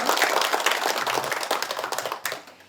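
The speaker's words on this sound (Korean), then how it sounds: "큰 박수로 맞아주십시오." Audience applause greets a university president introduced at a signing ceremony for a cooperation agreement between Gyeongsangbuk-do, Kyungil University and the Gyeongbuk Research Institute; dense, steady clapping from a crowd that fades toward the end.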